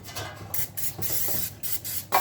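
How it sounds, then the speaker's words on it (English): Butter flavored non-stick cooking spray hisses onto a baking pan in several short, close bursts separated by brief pauses, with no talking over it. "I'm going to spray with some butter flavored non-stick cooking spray"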